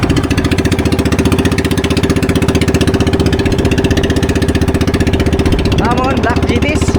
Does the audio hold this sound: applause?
no